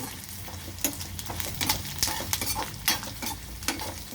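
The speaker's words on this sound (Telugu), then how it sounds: "అలాగే ఉంచేస్తే అల్లం కొంచెం మంచిగా వేగుతుంది" Ginger fries lightly in a little oil in a pan, a steady close sizzle broken by repeated scraping stirs of a spatula, with no speech.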